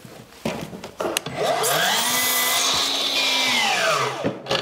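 A power saw cuts through a wooden cladding batten held against it, a rising whine that holds steady for a couple of seconds before winding down, preceded by a few knocks from positioning the wood.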